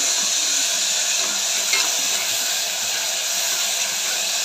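Curry with tomato, ginger paste and curry leaves sizzles in a pan as it gets mixed, a steady hissing fry with faint stirring, close and continuous.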